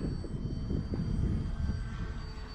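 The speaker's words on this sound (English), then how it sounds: "A little bit of nice little touch and go there." A 1.3-meter E-Flite Valiant RC plane doing a touch and go, its electric motor a steady, moderate drone with slight surging, heard from a distance outdoors.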